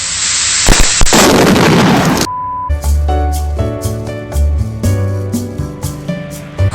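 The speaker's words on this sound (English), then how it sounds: "So there's the air tank from the 80s. It's probably gonna explode." An old 1980s air tank on an abandoned airliner on a farm bursts with a loud, close blast and a rushing hiss lasting about two seconds. A run of tonal thumps and tones follows.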